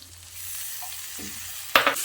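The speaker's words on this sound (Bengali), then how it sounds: "এবার মশলাটা বেশ ভালো করে কষিয়ে নিচ্ছি" Spiced paste with a splash of water hits a hot pan for a pumpkin curry and is stirred, giving a soft sizzle with scraping utensil sounds and a sharp spatter burst near the end.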